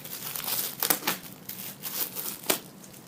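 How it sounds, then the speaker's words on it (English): Thin foil wrapping is crinkled and peeled off a casting sock, close-up bursts of crackling with a couple of sharper rustles, quiet and without talk. "It's also wrapped in some foil here."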